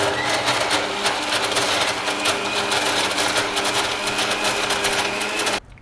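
A wet grinder churns soaked red rice batter with rock salt, making a loud, steady mechanical whir with fast rhythmic clatter close by, until it cuts off abruptly near the end.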